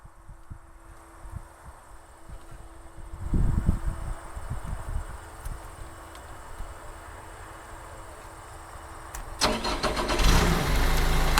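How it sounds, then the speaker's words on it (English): Terex Achiever TC-55 tracked aerial lift, its engine cranking and catching in a sputter, settling into a steady mid-pitched idle, then revving louder near the end, with no talk. "I'm going to start her up one more time."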